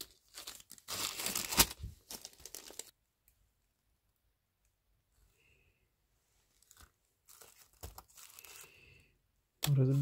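Plastic bag crinkling as a parcel of phone displays and ribbon cables is unpacked, bursts of rustling and tearing with quiet gaps between them, close and moderately loud.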